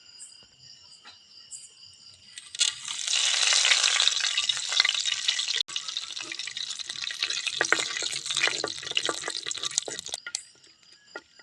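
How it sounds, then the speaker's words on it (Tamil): Mustard seeds fry in hot oil for tempering a pirandai thuvaiyal, a loud, steady crackling sizzle that rises suddenly, runs for several seconds with small pops and then stops abruptly. "எண்ணெய் காஞ்சிட்டு கடுகு போடு"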